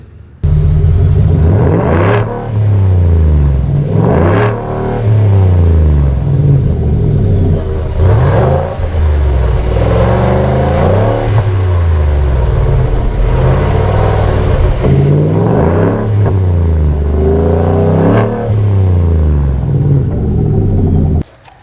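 Supercharged exhaust of a 2019 Ford F-150 LM650 with the off-road package, heard in quiet and off-road modes. Loud, close rumbling revs swell and fall in repeated bursts over a steady throaty idle, with no talk.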